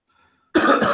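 A single sharp cough bursts out close to the microphone during a WordPress podcast recording, loud and abrupt after near silence.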